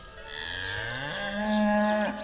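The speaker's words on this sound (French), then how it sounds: "Je peux vous montrer comment on traite les vaches" A dairy cow on a farm gives one long, loud, rising moo close by during milking, with no talk over it.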